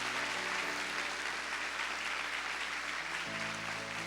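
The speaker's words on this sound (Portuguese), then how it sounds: "Dá uma salva de palmas bem forte para Jesus." A church congregation claps loudly and steadily for Jesus, a thick sustained burst of applause with a low hum underneath and no voices over it.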